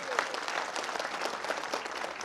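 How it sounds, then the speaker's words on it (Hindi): A Hindi comedy poetry gathering bursts into applause, a dense patter of many hands clapping close and steady, with faint voices mixed beneath. "एक बार अपने लिए जोरदार तालियां आप लोग बजाइए।"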